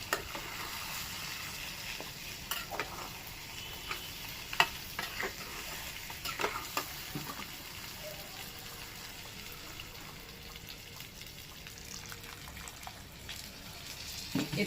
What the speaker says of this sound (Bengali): এইবার এর মধ্যে দিয়ে দেবো জল